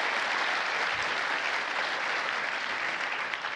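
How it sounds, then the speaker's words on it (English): Audience applause for three guest panelists at a military history panel event, a steady dense wash of clapping from a large crowd that holds at full strength for the whole stretch. "Ladies and gentlemen, a round of applause for John Curatola, James Holland, and Conrad Crane."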